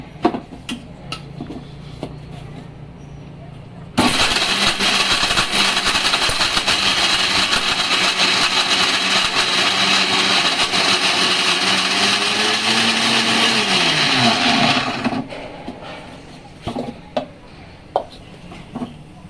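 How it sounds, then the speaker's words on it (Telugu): An electric mixer grinder whirs loudly and steadily for about eleven seconds while grinding spices with turmeric for masala karam, then winds down and stops, with handling clatter before and after. "ఇప్పుడు ఇవి మళ్ళీ మనము బాగా మిక్సీ పట్టుకుందాము."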